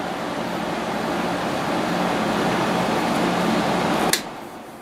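A window air conditioner runs on high speed with a steady, even fan whoosh and low hum. Near the end a sharp click cuts in and the noise drops to a quieter level.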